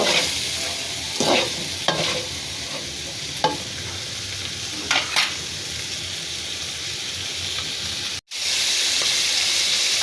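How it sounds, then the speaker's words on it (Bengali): Continuous sizzling of tengra and koi fish frying in hot oil, with occasional scraping stirs and clinks; a brief cut near the end before the sizzle resumes. "এভাবে কিছুক্ষণ মাছগুলো ভেজে নিব।"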